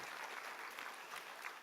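A church congregation clapping together during a Sunday service, a dense and even patter of applause that holds steady throughout.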